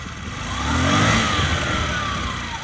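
A Honda Dio AF-68 fuel-injected scooter engine runs close by with a steady, smooth drone that swells slightly in the middle and then holds even.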